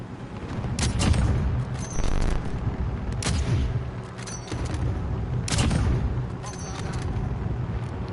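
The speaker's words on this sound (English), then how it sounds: "That sniper rifle is in action right now" Sniper rifle shots in Call of Duty: Modern Warfare, several booming reports spaced a second or so apart over dense battlefield noise, with a voice talking underneath.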